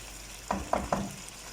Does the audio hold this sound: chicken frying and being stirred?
yes